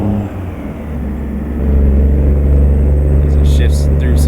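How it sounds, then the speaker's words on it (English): Loud, steady low rumble of a semi-truck engine in American Truck Simulator, swelling heavier partway through, with a few faint higher clicks near the end. "the sound of this truck just overwhelms it"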